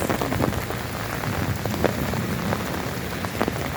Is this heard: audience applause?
no